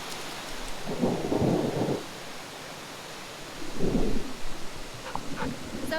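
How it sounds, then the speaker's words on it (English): Thunder rumbles in low rolling swells over the steady wash of heavy rain near a waterfall on a forest hike, two distinct rolls about three seconds apart. "But I'm hearing thunder right now, and it's starting to rain really hard."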